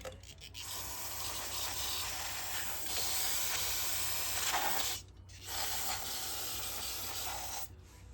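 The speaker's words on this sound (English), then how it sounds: "I'm going to clean it off as best I can with some brake cleaner" Brake cleaner sprayed from an aerosol can onto an oily motorcycle stator side cover over an oil basin. It comes as a loud, steady hiss in long bursts, with two short pauses between sprays.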